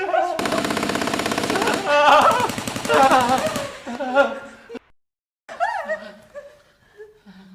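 Rapid bursts of machine-gun fire in a Pashto comedy drama rattle loudly and close, mixed with voices and laughter, then give way to talking after a brief silence.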